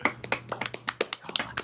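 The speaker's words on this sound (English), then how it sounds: "I've just got to applaud for Fallout 4" A single person claps hands in a quick uneven run of about a dozen sharp claps, close and fairly loud over a faint steady hum.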